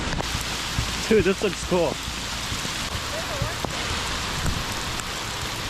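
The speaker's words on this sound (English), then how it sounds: "downpouring, folks." Heavy rain pours down over a lake in a steady, close hiss, with people briefly chatting excitedly partway through.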